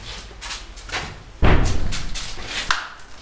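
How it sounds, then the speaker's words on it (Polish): A draught slams a door shut in an abandoned old palace, a single loud, hollow thud that rings out in the empty rooms after quieter rustling, with a smaller knock following. "Przeciąg, bo drzwi się tam zamknęły po prostu."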